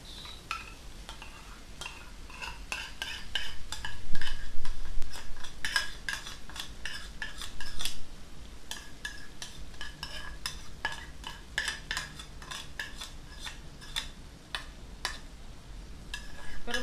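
Tofu sisig mix is stirred and scraped in a hot pan, a close, busy run of sharp utensil clinks and scrapes over a low frying sizzle, with no talking.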